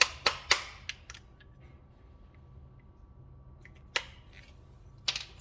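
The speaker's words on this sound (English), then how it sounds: "So I'm going to go ahead and grab my impact gun. The 14mm socket on it." An impact gun fitted with a 14mm socket working on the front brake bolts of a 2012 Dodge Journey, giving a few sharp clattering bursts, several early then one near the middle and another near the end, with quiet between.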